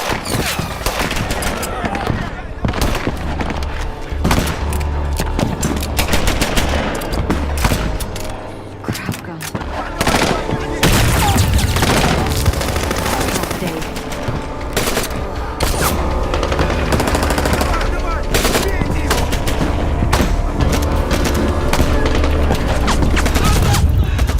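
Continuous movie gunfire from an action film, with dense machine gun bursts and scattered explosive booms running loud through the whole scene, and raised voices mixed in underneath.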